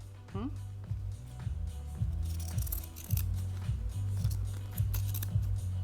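Scissors trim thread on freshly sewn fabric in a steady run of crisp snips, roughly two per second, close up, with a voice talking in the background.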